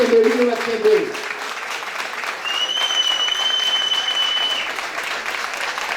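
A crowd at a tribute concert breaks into sustained applause, a thick wash of clapping that swells after a brief voice at the start and holds loudly, with a whistle ringing through the middle.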